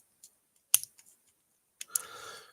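Joints of a G.I. Joe Classified action figure click in a few sharp, quiet snaps with a short scratchy rattle near the end, close up in an otherwise silent room.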